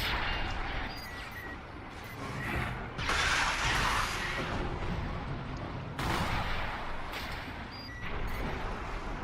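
A mech launching missile salvos in Armored Core 6: Fires of Rubicon, dense whooshing and crackling bursts recurring every few seconds over a continuous roar of combat noise.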